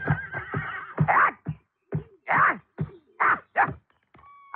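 A cart horse neighs loudly and close by, a long shaky whinny broken into several sharp bursts with brief gaps, alone without talk.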